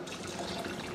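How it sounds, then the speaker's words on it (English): Chicken stock pours steadily into a cooking pot for tomato soup, a continuous close liquid splashing and gurgling with no talk. "I'm gonna add some chicken stock"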